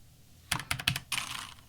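Keystrokes on a mechanical keyboard, a three-stroke cluster of clicky taps followed by a quick flurry of typing, close and moderately loud with no talk.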